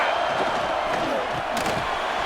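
Stadium crowd in a college football video game, Iowa State against Arizona State in a Big 12 Championship, roars steadily as a dense, continuous wash of cheering, loud and distant-sounding, with no clear breaks.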